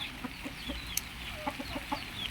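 Six-month-old gamecock chickens cluck softly in short, scattered bursts, fairly close, over a quiet outdoor background.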